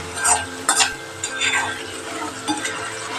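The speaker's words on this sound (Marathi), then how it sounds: "थोडासा हिंग घालूया ते पुन्हा एक हलवून घेऊ आणि शिजवून देऊ टॉमॅटो चांगला" Tomato with a pinch of asafoetida is stirred as it cooks in a pan for dal palak, a close, steady sizzle broken by a few spoon scrapes and light metal clinks against the pan.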